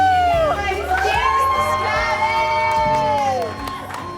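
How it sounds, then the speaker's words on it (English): A crowd of wedding guests cheers and whoops for the bride and groom, a loud, sustained burst of high-pitched shouts and hollers filling the whole moment. "let's stand up and say a cheer"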